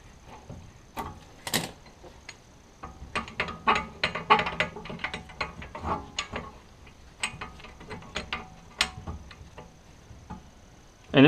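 A Ford Fusion rear brake caliper piston is wound back by hand with a tool, producing irregular clusters of close metallic ticks and ratcheting clicks, separated by brief pauses, ending in a sharp louder knock.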